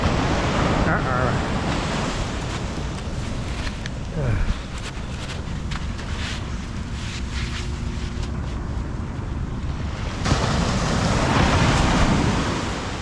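Ocean waves breaking on a beach with the tide coming in, recorded while metal detecting: a continuous loud wash of surf with wind buffeting the microphone, swelling again near the end, and a person speaking briefly over it.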